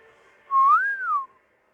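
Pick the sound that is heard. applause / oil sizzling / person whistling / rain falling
person whistling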